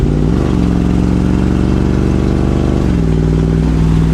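An old, rusty Ford Mustang with its exhaust missing drives along with a loud, raw engine drone. The pitch holds steady, dips briefly near the start, then settles lower toward the end.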